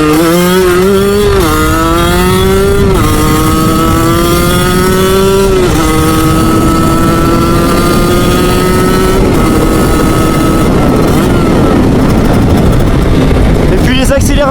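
50cc moped engine accelerating on the road in stock form, a loud buzzing two-stroke whine rising in pitch through several gear steps, close and dominant throughout, with a voice talking over it.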